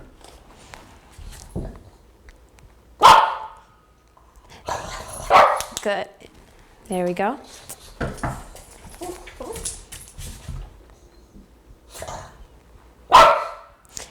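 A dog at home gives a few sharp, separate barks after a doorbell, loud and close, spaced among footsteps and quieter whimpers, while a person speaks briefly in between.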